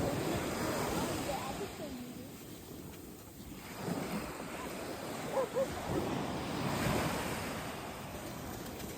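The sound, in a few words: ocean waves washing up on the beach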